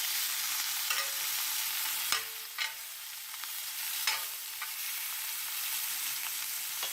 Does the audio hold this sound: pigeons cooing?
no